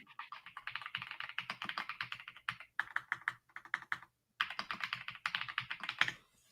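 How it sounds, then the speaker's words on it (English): Rapid keystrokes clatter on a computer keyboard in quick bursts, with short pauses between runs of typing; close and fairly quiet, no voices. "Typing away, y'all."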